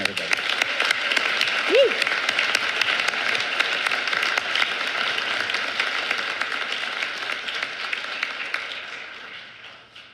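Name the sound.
audience applause at a graduation ceremony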